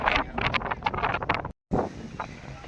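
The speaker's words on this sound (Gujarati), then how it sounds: "શિયાળાનો છે આ કમોસમી પવન છે" Strong, unseasonal winter wind gusts across a village cricket ground, buffeting the microphone in loud, uneven roaring bursts that cut out briefly and then resume.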